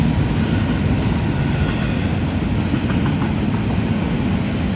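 A Norfolk Southern freight train rolls past at a distance in Elmira, New York, a steady broadband rumble and rush with faint wheel clatter, unbroken for the whole stretch.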